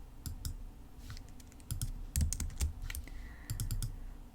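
Someone presses Command D on a Mac keyboard while working in Figma, giving sharp close key clicks in short bursts over a quiet background, with no speech.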